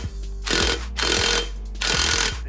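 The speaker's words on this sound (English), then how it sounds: "You take your impact gun, and you tighten it down." An impact gun tightens a lug nut onto a wheel stud of a 1991 Honda Civic, with three loud rattling bursts of hammering separated by short pauses, close and without talk.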